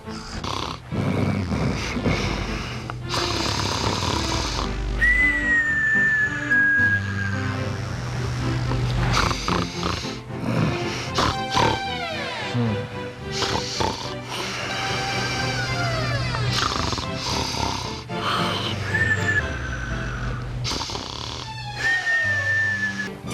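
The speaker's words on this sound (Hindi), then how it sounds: "जिस आदमी के खर्राटे से सारा घर जाग उठा, वो देखो बड़े मजे से सो रहा है।" A sleeping man snores loudly in a home, with rough rasping breaths and whistling tones repeating in an uneven rhythm for a long stretch, close and dominant.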